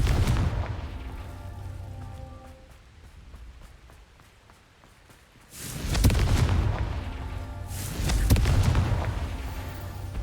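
Confringo fire-spell blasts from the Hogwarts Legacy video game: two heavy booming bursts with rumbling tails, one at about six seconds and another near eight, preceded by quieter crackling game ambience.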